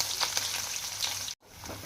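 Green chillies and onion fry for masala upma in a hot pan, a steady close crackling sizzle with small pops that cuts out abruptly near the end, then resumes more quietly.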